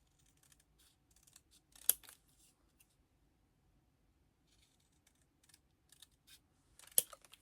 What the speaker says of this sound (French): Je vais découper un petit peu.